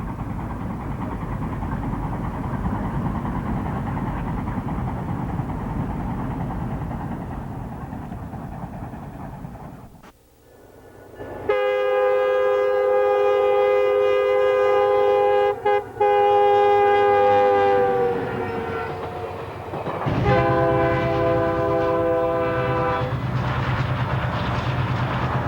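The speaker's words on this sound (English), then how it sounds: "I have added real railroad sound behind most of these pictures." A real railroad train rumbles along, then after a brief pause a loud multi-tone horn blasts, sustained for several seconds and sounded again, over steady engine and wheel noise.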